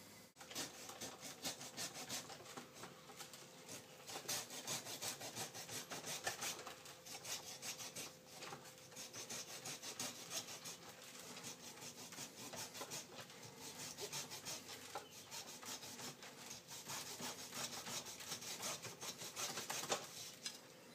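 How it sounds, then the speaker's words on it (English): A handsaw cuts into a bonsai tree trunk in steady, rapid back-and-forth strokes, a close rasping wooden scrape that runs continuously for the whole stretch with no talking. "I'm going to cut it two different ways. I'm going to cut in and then I'm going to cut down."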